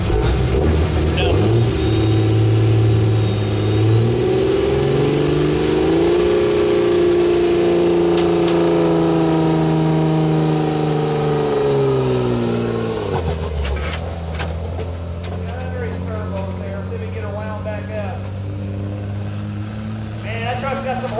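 Pulling truck at a truck pull in Richland, Missouri, engine roaring continuously and loud throughout, pitch climbing as it revs hard then dropping back, with an announcer talking over it.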